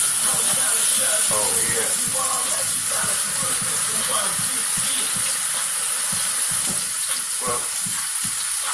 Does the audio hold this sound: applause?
no